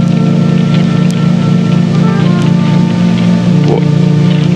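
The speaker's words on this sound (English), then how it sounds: "It's still raining." Steady rain patters continuously over a low, constant rumble, with a couple of faint sharp ticks along the way.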